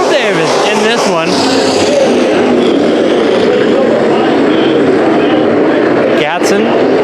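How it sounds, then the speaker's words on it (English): IMCA modified race cars roar around the dirt oval at Bakersfield Speedway during a heat race, a loud continuous engine drone with passing swells. An announcer talks over it. "Another heat race for the IMCA modifieds on track now."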